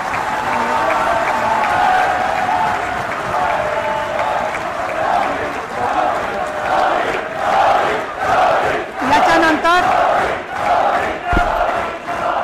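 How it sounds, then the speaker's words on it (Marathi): A crowd at a felicitation ceremony for the world-champion Indian cricket team applauds to welcome captain Rohit Sharma, with loud, sustained clapping and cheering that swells and continues for the whole stretch. "आपल्या कर्णधार रोहित शर्मा यांचं आपण टाळ्या वाजवून जोरदार स्वागत करूया"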